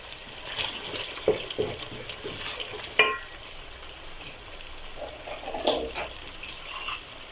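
Steady sizzle of tomato paste cooking in a little water, with occasional stirring clinks and a few sharper pops, fairly quiet and continuous, no voices.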